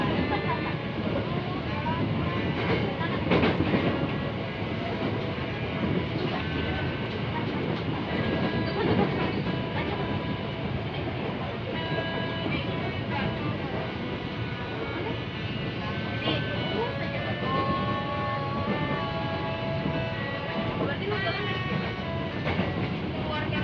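Inside a crowded commuter train running between Bogor and Jakarta Kota at night, a steady rumble of wheels and carriage noise continues throughout, with the murmur of passengers talking underneath.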